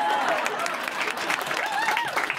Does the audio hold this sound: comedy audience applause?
yes